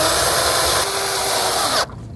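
A power drill drives screws into the bracket of an electric RV awning, giving a steady, close whir for about two seconds before it cuts off.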